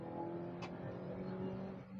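A Hyundai Aura sedan running on CNG pulls hard in second gear toward 6,000 rpm, its engine droning steadily as a muffled, continuous rev heard from inside the cabin.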